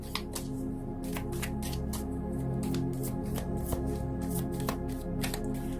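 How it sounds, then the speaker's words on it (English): Tarot cards are shuffled by hand, a rapid run of crisp riffling and slapping bursts repeating steadily, close up and quiet, with no talking. "let me just shuffle some more"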